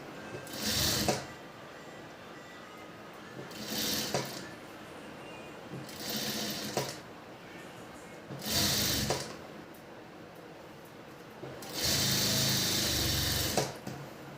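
Sewing machine stitching a blouse cup to the front panel in short bursts of rapid mechanical whirring separated by pauses, close and clear.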